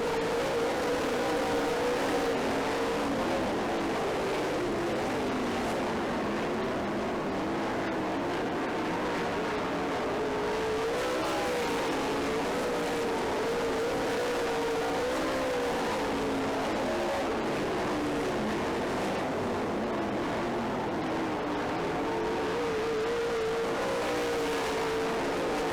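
Race cars in a heat race on a dirt track, a continuous loud roar of several engines, with revving that rises and falls as they circle.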